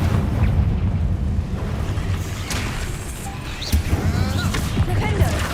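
Confringo fire spell blasts in the Hogwarts Legacy video game, a dense rumbling roar of repeated booms and bursts layered with crackling effects, loud and continuous throughout.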